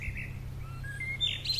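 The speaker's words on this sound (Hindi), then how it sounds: "उसी समय दूर पेड़ों पर बैठी चिड़ियों की आवाज़ सुनाई देने लगी।" Small birds chirp in distant trees at dawn, a few thin, high tweets and short rising calls over a faint low hum, fairly soft and sparse.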